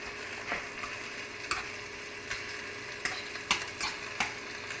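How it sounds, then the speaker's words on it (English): A papaya and carrot mixture is stirred in a pan over a soft, steady sizzle, with intermittent scraping strokes of the utensil that come and go at an unhurried pace. "While we're waiting, we're just gonna keep stirring this."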